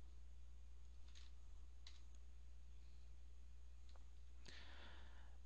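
A handful of faint, scattered computer keyboard keystrokes as login credentials are typed, with isolated clicks spaced apart and a final short burst over a quiet background hum.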